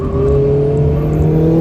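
Lightly modded ND Mazda Miata engine holding a steady high drone at about 90 mph on the Atlanta Motorsports Park track, loud and close with a whirring tone and no talk.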